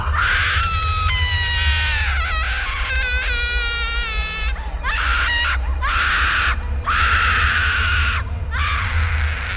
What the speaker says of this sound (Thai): เสียงกรีดร้องของหญิงสาว ก็ดังสนั่นไปทั่วพื้นป่า